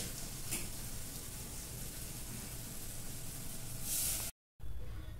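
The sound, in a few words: modak filling frying and being roasted in a pan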